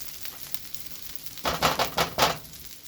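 Onions sautéing in a pan give a quiet background hiss, then a burst of louder sizzling and stirring scrapes in the second half, close and without talk.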